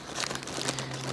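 Plastic poop-pickup bag crinkling as it is handled, a quick run of soft, close crackles and rustles lasting about a second.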